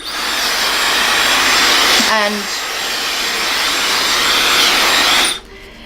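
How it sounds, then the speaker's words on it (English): A Dyson hair dryer blows with a loud, steady broadband whoosh that holds for several seconds, then cuts off abruptly near the end. "So what I use is this Dyson hairdryer. Amazing. It's not very loud. I'll turn it on."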